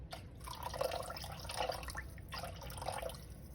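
Warm water pours into a bowl for bread dough, a continuous close splashing trickle in two bursts with a short pause between, no talking.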